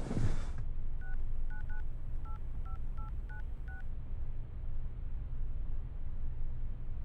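A telephone number dialed on a keypad during a Kazakh crime drama: nine crisp DTMF tones in an uneven rhythm over a steady low room hum, with no talking.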